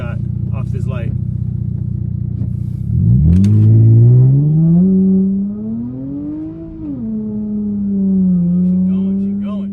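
A car accelerates hard away from a red light on a rain-soaked street, its engine note rising loud and steady from an idle rumble, dipping briefly, then climbing again, with voices chatting in the cabin over it.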